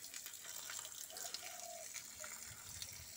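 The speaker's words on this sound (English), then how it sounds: "Backwash, dirty water." Dirty backwash water flows from a sand filter used for river water, a faint, steady splashing trickle with no talk.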